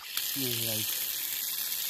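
Clear spring water in the mountains rushes with a steady, full hiss throughout, and someone speaks briefly over it.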